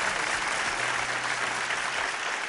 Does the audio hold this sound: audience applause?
yes